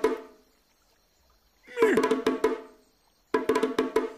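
Two short bursts of rapid tom-tom drum beats sound in a kids' cartoon, each a quick cluster of hollow hits separated by a pause of near silence.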